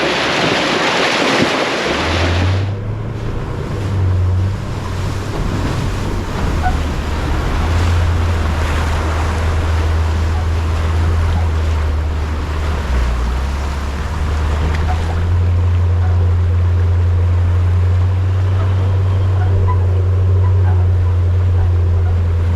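A vehicle pushing through a deep river crossing on the Gibb River Road, with steady churning water and wash, a low engine drone underneath and wind buffeting the microphone throughout, loud and close.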